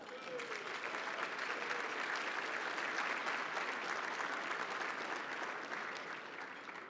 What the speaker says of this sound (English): I want to hear a clap.